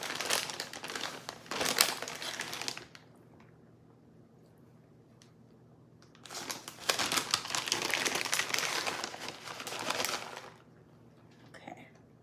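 A plastic bag of shredded cheddar cheese crinkles loudly in two long bursts during cooking, with a quiet pause between them and a brief rustle at the end.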